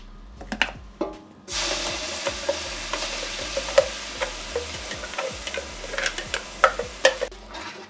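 Curry paste goes into hot oil in a pot for a Sri Lankan fish head curry. A few sharp knocks come first, then a sudden loud sizzle that continues with crackles and spoon taps, close up, with no talking.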